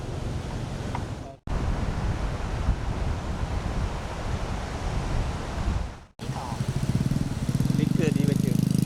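Strong, gusty wind roars and buffets loudly against the microphone at the P2 beach, a dense continuous rush broken by two short dropouts, with a low motor-like hum joining near the end.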